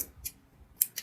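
Scissors snip through spare saree lining fabric in a few short, crisp cuts, one early, then a gap of quiet, then two quick closing snips near the end.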